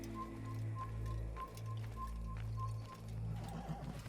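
A horse in the video game Assassin's Creed snorts and whinnies in short repeated bursts over steady ambient game sound, with a soft rhythmic tone pulsing behind it.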